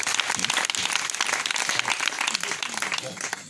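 A church congregation claps and cheers loudly to acclaim the Lord, a dense continuous burst of applause with voices shouting throughout.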